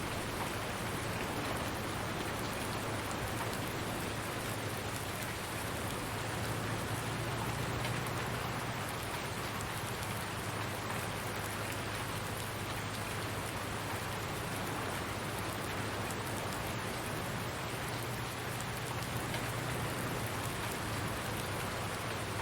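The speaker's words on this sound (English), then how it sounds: "If we waited until it wasn't raining" Steady rain falls across a farm in Farming Simulator 19, a dense, even hiss with a low constant hum underneath, filling the whole stretch without any voices.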